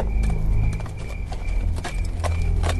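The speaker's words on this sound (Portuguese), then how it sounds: "constantemente o cavalo no qual estava montando pisava em alguma dessas poças, cambaleando levemente" Horse hooves clip-clopping at a walk, the rider's mount stepping through puddles on muddy ground, a steady close rhythm of heavy steps with a thick low rumble beneath, no voices.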